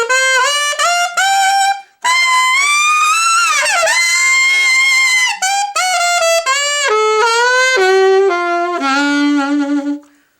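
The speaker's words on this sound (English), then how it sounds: "I want to go up and then back down with an overtone slide" Saxophone overtone slides up and back down, with bright, close tones stepping through harmonics in short phrases, a brief gap after the opening notes, and a sustained slide ending on a held low note.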